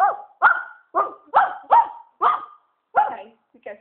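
A voice imitates a dog barking, giving eight evenly spaced, clear woofs at close range with brief pauses between them, the last one softer and clipped.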